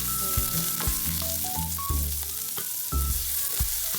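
Garlic and onion frying in a pan, a close, loud sizzle with crackles and a few stirring scrapes, continuous over a few seconds with no one speaking.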